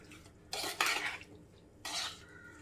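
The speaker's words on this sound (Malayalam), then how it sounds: "എന്നിട്ടൊന്ന് ഇളക്കി കൊടുക്കാം." A spoon stirs a lemon pickle mixture in a pot, two short bursts of scraping, clinking metal against the pan separated by a quiet pause, fairly faint and with no talking.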